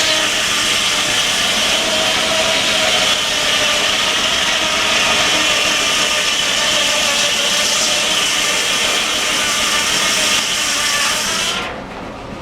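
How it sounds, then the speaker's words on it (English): Brick sawmill powered by a 65 horsepower engine at the Maryland Steam Historical Society 2023 show, cutting wood with a steady loud whirring, grinding roar that runs continuously before cutting off abruptly near the end. "It is a brick sawmill."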